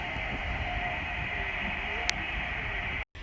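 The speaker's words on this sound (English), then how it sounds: "West Coast Class 390 Pendolino might have been from London Euston to Liverpool Lime Street" A Class 390 Pendolino electric train passing on the West Coast Main Line at Bletchley, a steady moderate whooshing rumble with a faint high whine, one sharp click partway through and a momentary dropout near the end.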